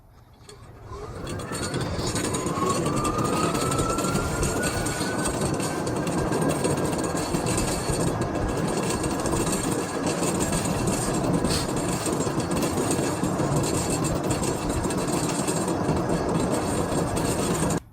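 An EZ-GO TXT golf cart converted to a 48V lithium battery drives at speed, giving a steady, loud whine with a rising electric-motor tone and constant rolling rumble that holds level from start to end.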